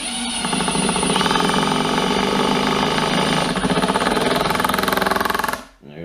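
A power driver sinks a 4.5 by 50 single-thread woodscrew into wood: a loud, steady buzzing whir for about five and a half seconds, close up, ending abruptly as the screw seats.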